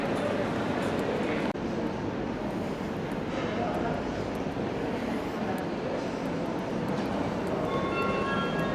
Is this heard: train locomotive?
yes